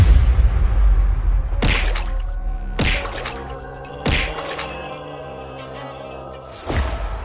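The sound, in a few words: stone thrown at crocodile, cartoon effect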